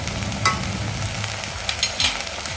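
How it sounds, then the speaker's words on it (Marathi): Garam masala and turmeric frying in oil while being stirred for cauliflower and pea kofta curry, a close crackling sizzle with a few sharper spits and scraping stirs. "इथे आपल्या मसाल्याला तेल सुटलेलं आहे आता यामध्ये आपण तेवढे मसाले घालून घेऊया गरम मसाला आणि हळदी"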